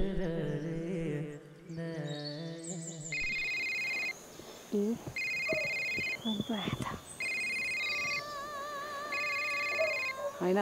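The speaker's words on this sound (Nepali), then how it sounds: "सागर सरको फोन हो कि क्या हो उठौ नि त" An incoming-call ringtone sounds in four evenly spaced electronic bursts. Each ring is clear and fairly loud, following a stretch of speech and background noise at the start.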